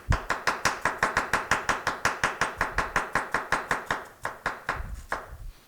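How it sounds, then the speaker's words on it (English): Ginger chopped very finely with a knife on a cutting board for Asian potstickers, a fast steady run of about two dozen crisp close taps that slows and loosens near the end. "I like to almost just chop real, real fine"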